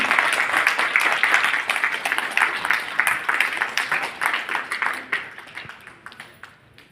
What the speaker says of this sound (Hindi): तालियां होनी चाहिए. जोरदार तालियां